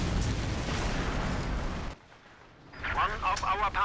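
ZiS anti-tank guns firing in the Company of Heroes 2 strategy game, heavy booming shots and rumbling explosions filling the first seconds, a brief lull, then more blasts and debris.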